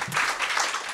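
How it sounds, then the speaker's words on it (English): Brief scattered applause rises from the audience at a Womanword poetry and stand-up event, a short burst of clapping in a room. "Cue rapturous applause."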